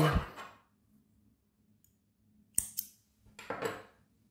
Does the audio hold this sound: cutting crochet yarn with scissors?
yes